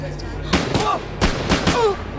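Automatic rifle gunfire in a palace shooting scene: several sharp, loud bursts come in quick clusters over about two seconds, with voices heard between and under the shots.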